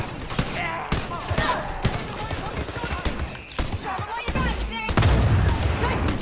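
Enemy gunfire crackles in Wolfenstein Youngblood, with rapid shots and thumps mixed with game sounds and a player's voice, ending in a louder burst.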